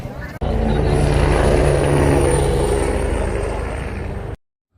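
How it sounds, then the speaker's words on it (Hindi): Helicopter flying near Kedarnath among snowy mountain peaks, a steady, loud rotor and engine drone that holds for about four seconds and then stops abruptly. "हेलीकॉप्टर की आवाज़ भी आप सुन सकते हैं।"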